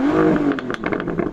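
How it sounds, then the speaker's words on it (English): A Bentley Continental W12 engine revs up with a rising, rough growl, followed by several short bursts of throttle blips, close and fairly loud. "Daniel, can you rev up your car and let us hear its W12 engine?"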